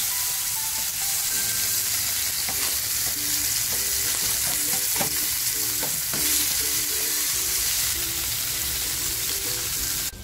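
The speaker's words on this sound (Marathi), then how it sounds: "हाफ फ्राय करून द्यायचे।" Mackerel (bangda) half-frying in a pan, a steady loud sizzle with repeated scraping and stirring clatter, heard alone without talk.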